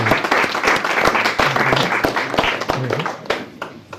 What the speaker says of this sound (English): A round of applause for Professor.